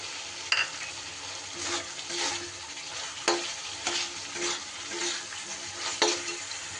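Fried potatoes tossed into a reduced, oil-glossed spice masala in a pan, with a steady sizzle and periodic scraping strokes of the spoon, moderately loud and close, with no voices.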